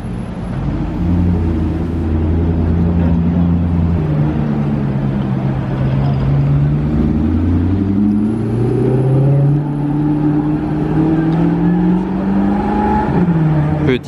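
A Rolls-Royce Cullinan in an American-market configuration drives past during a Top Marques car show in Monaco, its engine note rising and falling as it passes. Street noise and other vehicles blend in around it.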